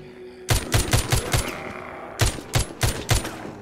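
Rapid bursts of gunfire in the zombie shooter game The Walking Zombie 2, a cluster of four or five loud shots followed after a pause by another rapid volley, sharp and close.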